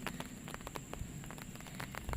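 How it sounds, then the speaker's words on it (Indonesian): Light drizzle falls in a rural Indonesian setting, a soft continuous patter with scattered drops ticking against surfaces, steady and moderately faint. "Gerimis mengundang."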